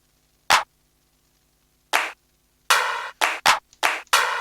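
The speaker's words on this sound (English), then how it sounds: "Let's get a clap going" Clap drum samples played in the HALion 6 sampler, sharp electronic claps: two isolated hits, then a quicker cluster of five, crisp and close with silence between.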